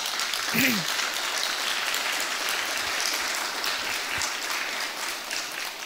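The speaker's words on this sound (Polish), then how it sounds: "ogromne brawa, wielkie brawa dla zarządu w sprawie ebusa" An audience at a December company meeting of RAFAKO applauds the management board, a steady wash of crowd clapping at moderate volume, with a brief voice-like sound near the start.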